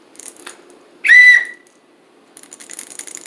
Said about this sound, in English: I assume if I blow it hard enough, it would make that full, rolling whistle.